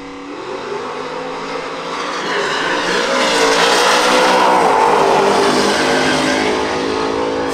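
A Ford Coyote-powered truck launches alone down a drag strip, its engine roaring loud and sustained as it pulls hard and fades slightly toward the end, with broadband exhaust and wind noise.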